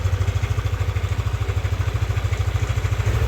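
A Yamaha Aerox V2 scooter idles before repair, its engine sounding rough and coarse, a close, loud, rapid and even pulsing rumble with some clatter, running steadily throughout without speech.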